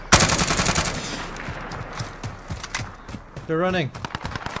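Rapid automatic gunfire in Call of Duty Modern Warfare Warzone crackles in repeated bursts, close and loud, while a player speaks briefly over it.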